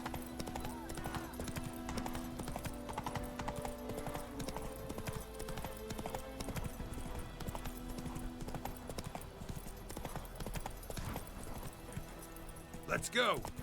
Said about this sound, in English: Hey, Roach. So I'm so happy you're just a magical horse who can just appear out of like thin air.